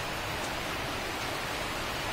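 Heavy rain in strong wind makes a dense, even hiss of broadband noise, steady and unbroken for a few seconds.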